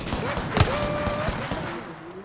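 Bursts of gunfire ring out in the Apex Legends video game, with one sharp loud shot standing out among scattered fainter reports over a steady hum of game ambience.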